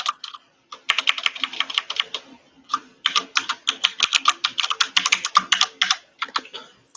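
Fast, close typing on a computer keyboard, with dense bursts of crisp key clicks broken by brief pauses and no talking.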